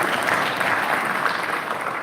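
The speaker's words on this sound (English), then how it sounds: "we give some applause to the technicians." A thick, sustained wall of applause from a conference audience at an international sports summit in Malaysia, many people clapping together loudly and steadily for the technicians.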